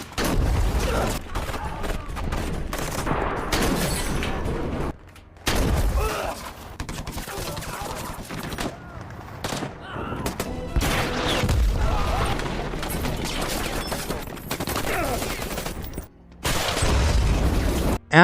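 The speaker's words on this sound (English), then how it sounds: "Then they shot at the ISIS troops who survived the explosion" Gunfire aimed at surviving ISIS fighters after a bomb blast: repeated rifle and machine-gun fusillades with bursts and booms, loud and dense, broken by brief pauses, and voices can be heard among the shots.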